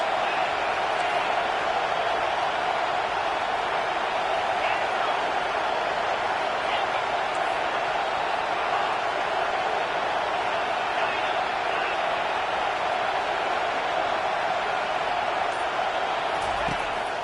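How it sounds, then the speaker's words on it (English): Football stadium crowd at an Alabama game, a dense, steady roar from the stands that holds level throughout while a commentator talks over it. "This crowd trying to make life miserable for this offense."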